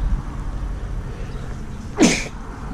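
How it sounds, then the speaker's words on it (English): A single sharp sneeze bursts out near the microphone at an outdoor creek, brief and loud against a steady background of running water and ambient noise. "I gotta make the sneeze."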